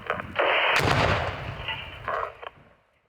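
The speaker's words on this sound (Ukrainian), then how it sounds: "шляхом накладання вибухівки поруч біля касетного боєприпасу" Controlled demining detonation of a cluster munition with a placed explosive charge in Kherson region, a single loud blast followed by a rumbling roll that fades over a few seconds, with a second smaller thump near the end.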